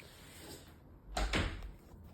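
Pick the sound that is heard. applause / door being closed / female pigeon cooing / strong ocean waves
door being closed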